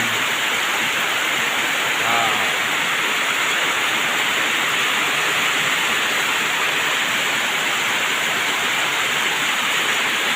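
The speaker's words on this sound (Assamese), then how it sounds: "চোৱা বৰষুণ দি আছে পুৰা" Heavy rain pours down in a steady, dense roar, loud and unbroken throughout, with a brief faint voice early on.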